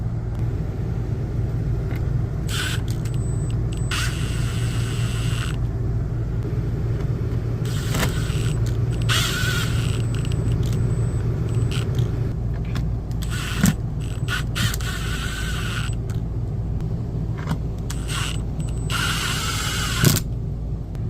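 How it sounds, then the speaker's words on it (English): Screws driven with a power driver to secure an RV air conditioner filter, several short whirring bursts over a constant loud engine-like rumble, no talk. "now we need to secure the 4 screws in the corners over here"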